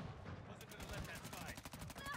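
A secondary pistol fires in Call of Duty: Modern Warfare II, with a quick run of sharp, close shots and in-game noise in the background.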